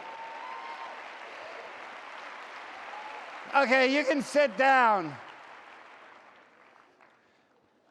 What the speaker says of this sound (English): it's all nice to clap